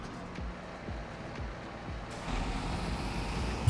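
A tractor engine in the Farming Simulator 22 game, on an Alpine map, idles with regular low thumps, then starts up at about two seconds and settles into a louder, denser rumble.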